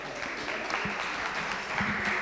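Scattered audience clapping at a conference session, moderate and steady over a couple of seconds with a faint voice in the background.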